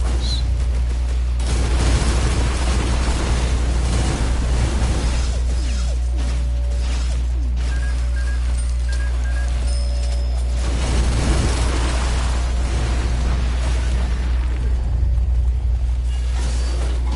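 Explosions in the Risk of Rain video game rumble and boom in a loud, continuous barrage with whooshes and mechanical clatter layered over a deep, sustained low drone.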